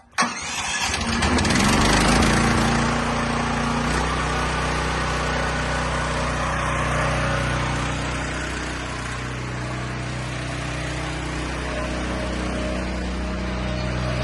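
Diesel engine on a Hartnett 20T firewood processor starts with a sharp burst, then settles into a steady, loud, low idling rumble that carries on throughout without talk.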